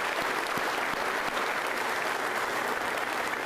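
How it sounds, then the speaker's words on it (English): An audience claps steadily throughout at an athletic department speech event, a dense even wash of applause without pauses or voices standing out. "Let's give a round of applause to USF Board Chair Will Weatherford."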